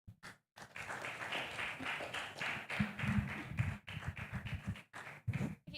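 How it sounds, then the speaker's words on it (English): An audience claps for a panel of speakers at an event, a short, uneven burst of applause with loose taps and thuds, fairly close, with brief gaps and a few stray voices. "Let's clap for them."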